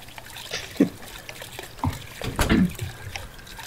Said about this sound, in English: It's a sink, damn it.